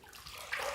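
Running water from a tap rinses a razor in a brief, soft splash that grows slightly louder near the end.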